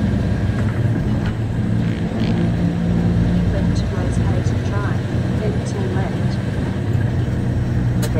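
A truck engine with a Road Ranger constant mesh gearbox pulls steadily under light acceleration in sixth direct, a loud, continuous low rumble that holds for the whole stretch, with a voice speaking over it.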